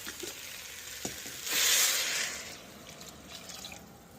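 Water pours into a hot pan of green peas rice and bursts into a loud hissing sizzle for about a second, then settles back to a gentle frying crackle with faint drips.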